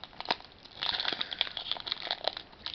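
Foil wrapper of a Pokémon booster pack being torn open and crinkled, a close, quiet run of sharp crackling and rustling bursts with no talking.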